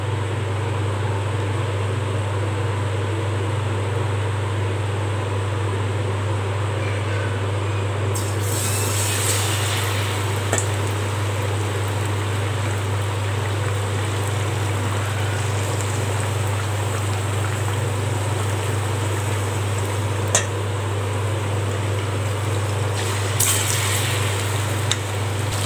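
Nendran banana bajji, the fruit dipped in batter, fries in hot oil with a continuous hissing sizzle like light rain over a low steady hum, growing briefly brighter at moments.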